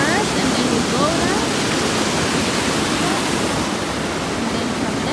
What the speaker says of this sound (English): This is the river.